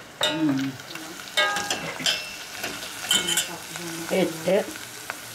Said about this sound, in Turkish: Yağım kaynıyor kızım.